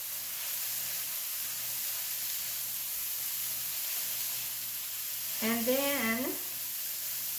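Ground turkey sizzles in a hot pan with a constant, even frying crackle, and a voice briefly speaks over it near the end.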